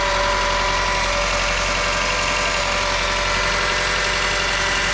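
A Toyota Camry engine runs with no alternator fitted after an oil pump seal and timing belt repair, producing a loud, steady idle with an even mechanical hum and light knocking throughout.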